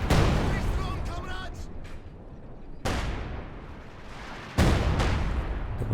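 StuG assault guns fire in the video game Company of Heroes 2, three loud sharp booms at roughly even spacing, each followed by a long rumbling decay, with a voice talking faintly underneath.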